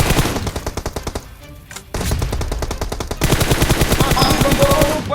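Sustained automatic gunfire in PUBG Mobile, a rapid, loud stream of shots with a brief gap midway, then continuing bursts, close and dense.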